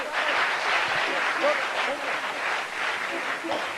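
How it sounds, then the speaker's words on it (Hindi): Audience applause at a business seminar, a steady wash of clapping from a crowd that holds at an even level for a few seconds with no voices over it. "मैं चाहूंगा इसके लिए जोरदार ताली हो जाए,"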